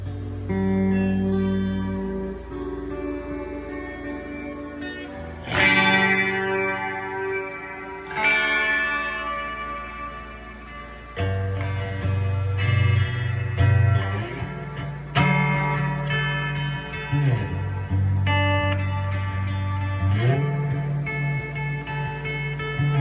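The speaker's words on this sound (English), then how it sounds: "we're gonna plug the guitar in and turn up the sound on the amplifier" A newly built electric guitar rings out through an amp with echo and effects, strummed chords and picked notes sustaining loudly for over twenty seconds, no voices.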